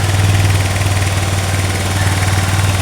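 A 2015 Honda Beat FI fuel-injected scooter idles up close after starting, a loud, steady mid-pitched engine drone with an even pulsing beat and no voices over it.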